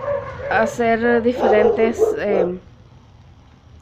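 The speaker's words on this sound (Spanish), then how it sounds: "los perros están ladrando mucho" Dogs bark and yip in quick bursts beneath a person talking, the barking mixed into the speech and fading out toward the end.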